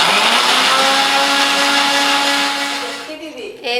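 A mixie grinder whirs loudly and steadily, blending spices such as cumin, fenugreek and mustard seeds for mango pickle, then winds down and stops near the end.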